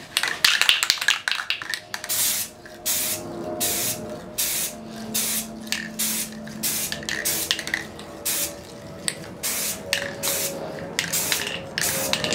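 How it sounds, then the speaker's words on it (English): Repeated short hisses of an aerosol can spraying acetone onto a PLA 3D-printed model, in many quick bursts with brief gaps, fairly close and alone, with faint clinks in the background. "I'm just going to spray it now actually"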